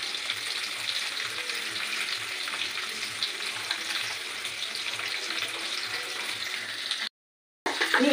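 Green peas sizzling in a hot wok for Kolkata street-style veg chowmin, a steady crackling hiss with occasional stirring scrapes, then a brief silent gap before the frying resumes.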